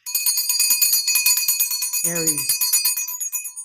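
A small handheld bell rings continuously in rapid, bright repeated strikes, loud and close, while someone speaks briefly over it.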